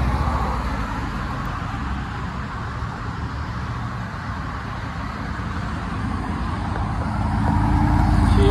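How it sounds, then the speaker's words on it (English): Steady road traffic near an abandoned BP gas station in Port Jefferson, with cars rolling past in a continuous loud rumble that swells slightly toward the end. "Cars."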